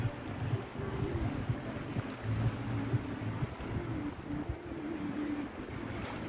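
Seaside waves wash along the shore at Byblos with a continuous low surf rumble and wind buffeting the microphone, steady and fairly faint.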